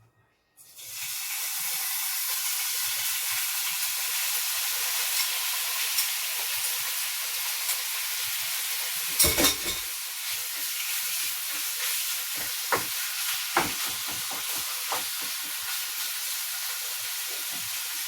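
Pork hits a hot pan for spicy Bicol Express and sizzles steadily, a dense, loud hiss sustained throughout with a few louder crackles and pops near the middle and later.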